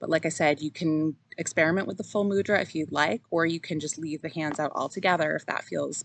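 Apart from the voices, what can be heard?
No everyday noises stand out.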